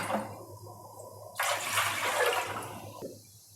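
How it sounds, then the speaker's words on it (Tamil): Water poured into a pot for kozhukattai dough, a steady splashing stream of about one and a half seconds that starts abruptly, holds loud and close, then cuts off, with a faint hum in the kitchen. "மூன்றரை தண்ணி சேர்க்குறேன்"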